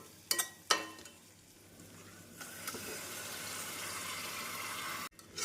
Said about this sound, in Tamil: நாம் சிக்கன் சேர்த்து மீடியம் ஃப்ளேமில் இரண்டு நிமிடம் வதக்கிய பின்